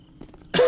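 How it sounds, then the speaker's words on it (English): A single short, rough cough from someone with a small cold, sharp and close, following a few faint quiet shuffles. "I'm going to be coughing a bit"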